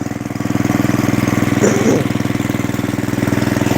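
A snowblower engine under repair idles as it warms up, with a close, steady, rapid putter. It swells briefly partway through.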